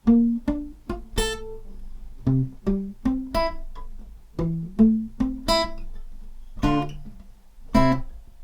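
Plucked guitar notes and chords ring out one after another in a slow, steady intro line from a song, each attack decaying before the next; no voices.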